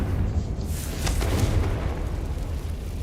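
A Confringo fire spell bursts in the Hogwarts Legacy video game, a loud rumbling blast with a sharp onset near one second that rolls on as a sustained, heavy low roar.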